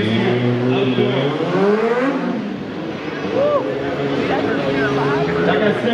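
Stunt motorcycles ride and wheelie on a slick indoor arena floor at a New York motorcycle show, engines droning and revving steadily throughout, with an announcer talking over the noise and the crowd.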